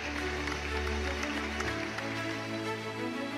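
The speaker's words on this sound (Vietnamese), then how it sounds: "Xin quý vị dành những tràng pháo tay thật lớn" Applause from an audience at a community gathering, the Nghệ Tĩnh hometown association's annual meeting in the Czech Republic, dense steady clapping filling the whole stretch over a low hum of music.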